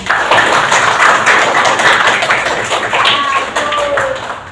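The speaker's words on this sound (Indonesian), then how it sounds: "Tepuk tangan dong" A classroom of students claps hands together in a short burst of brisk, loud clapping, with a voice or two chiming in faintly near the end.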